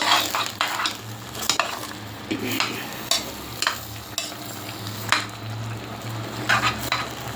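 Vegetables for a Malabar spinach and shrimp dish fry in a pan with a steady close sizzle, broken by frequent scraping stirs of a spoon against the metal.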